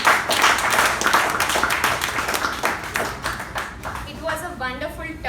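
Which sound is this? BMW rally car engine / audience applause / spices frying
audience applause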